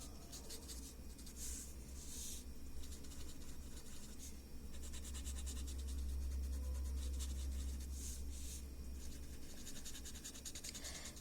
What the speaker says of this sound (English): with my blending tool, just working all of those graphite grays onto the fiber of the paper